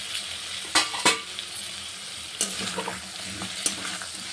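Potatoes fry in a pan with a steady sizzle, broken by a few sharp spatula scrapes and clinks against the metal as they are stirred, close up with no talk.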